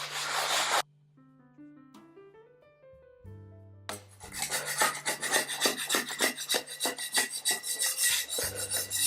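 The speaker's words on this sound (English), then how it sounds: "I'm going to use a scrubbing sponge. This half of it has a bit of an abrasive scrub." Abrasive sponge scrubbing a granite stone slab, rapid rhythmic rasping strokes up close, entering after a stretch of soft background music with a few tones.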